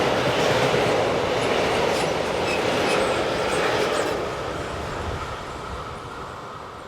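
A train rumbles steadily past on the busy Fulda to Bad Hersfeld mainline in Germany, a loud, continuous roll of wheels with clickety-clack on the rails, slowly fading as it moves away.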